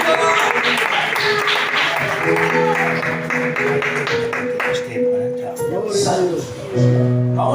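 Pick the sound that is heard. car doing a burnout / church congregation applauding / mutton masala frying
church congregation applauding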